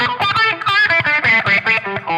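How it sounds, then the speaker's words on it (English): Electric guitar notes played through a Mutant Filter effect, a sweeping, resonant filter, each note quacking and warbling with a synthetic, vowel-like tone. "I also like this mutant filter."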